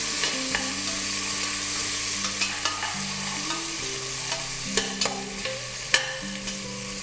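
Sliced onions and whole spices fry in hot oil with a constant crackling sizzle, punctuated by sharp spoon taps and clicks against the pan as they are stirred.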